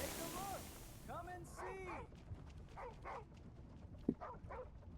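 A dog named Lola gives a few short, high yaps and whimpery barks in the background, faint against people talking nearby.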